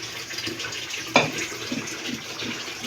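Water is poured into a pressure cooker, a low trickling splash with one brief brighter splash near the middle, heard close and fairly quiet.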